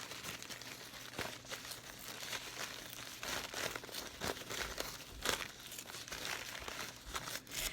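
Packaging is ripped open by hand, making a steady run of close crinkling and tearing rustles that lasts several seconds, with sharper crackles now and then.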